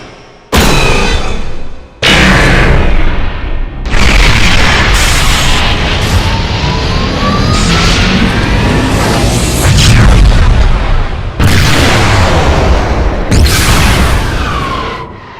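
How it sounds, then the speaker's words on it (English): Heavy BattleMech weapon effects from the BattleTech/MechWarrior series, cinematic and powerful: a run of loud booming blasts and explosive bursts, with sweeping laser-like tones between the impacts, close and dense with no pauses. "my latest project being Battle Mech Weapons from Battletech/Mech Warrior series"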